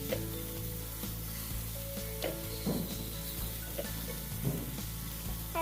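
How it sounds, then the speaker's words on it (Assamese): Ridge gourd peels dry-frying in a pan over a low gas flame, a steady close sizzle with occasional scraping and stirring taps running continuously, no voices. "আৰু এইখিনি আমি কম জুইত 2-3 মিনিটৰ কাৰণে এনেদৰে শুকানকৈ ভাজিম।"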